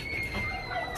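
Chickens in a small zoo clucking, a short burst of close, busy fowl calls over outdoor background noise.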